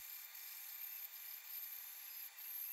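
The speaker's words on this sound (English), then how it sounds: "Over here, I'm at the bandsaw, but you can also use a scroll saw or a coping saw to cut this." A bandsaw cuts a curve in wood for a floating bookshelf, giving a steady, thin, hissing rasp that pulses slightly as the blade works, faint and without talk.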